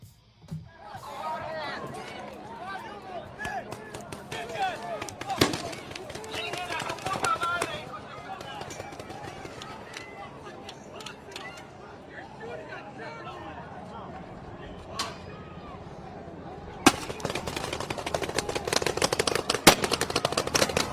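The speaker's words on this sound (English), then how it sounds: "Oh, they're firing, okay, tear gas." Tear gas launchers fire at a street protest in news footage. Sharp, scattered pops and bangs sound over a constant crowd hubbub, with people talking and shouting throughout.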